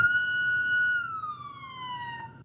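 Police siren at a staged mock distracted-driving crash, a single wailing tone holding steady then sliding down in pitch, moderately faint and alone.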